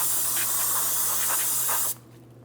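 Aerosol parts cleaner sprays onto the wheel hub mating surface of a 2007-2014 Ford Edge during a parking brake shoe job: a loud, steady close-up hiss for about two seconds that then cuts off abruptly.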